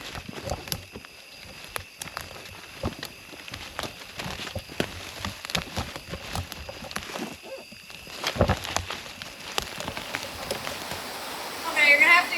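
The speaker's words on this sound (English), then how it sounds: "you're gonna have to excuse the noise because it's raining" Steady rain patters with irregular taps and drips on a surface nearby on public land during deer hunting, and a person speaks briefly near the end.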